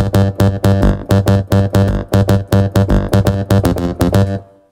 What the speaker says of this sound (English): it's a Nexus sound